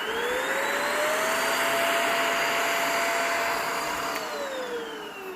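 A cordless vacuum cleaner running on carpet at its high power setting gives off a steady whine that rises in pitch, holds level, then dips again near the end, close and alone.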